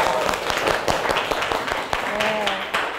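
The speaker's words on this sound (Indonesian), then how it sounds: "Kita kasih tepuk tangan dulu buat tadi yang jawab." Classroom applause for a student's answer, a scattered group clapping in an uneven rhythm, moderately close, mixed with voices talking over the claps.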